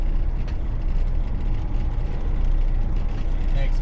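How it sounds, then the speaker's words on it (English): Freightliner FLD 120 truck engine idling on a farm, a steady low diesel rumble that stays loud and close throughout with no pauses. "I've always loved this truck and the way it sounds."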